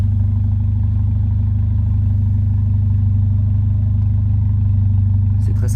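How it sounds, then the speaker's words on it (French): A Mercedes CLA 45 AMG idles at the rear, its exhaust giving a steady, loud, low rumble that holds even throughout, close to the tailpipe. "je vais vous montrer un peu la sonorité de derrière avant de montrer le moteur. Voilà, au ralenti, ce que ça donne."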